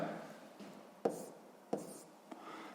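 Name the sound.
writing a letter into a table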